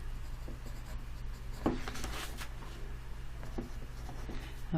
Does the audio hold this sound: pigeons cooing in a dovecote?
no